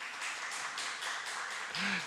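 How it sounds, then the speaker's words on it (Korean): A church congregation at a Friday worship service applauds in quick, rhythmic clapping, soft and somewhat distant, with a faint voice near the end. "여러분 박수 한번 부탁드리겠습니다."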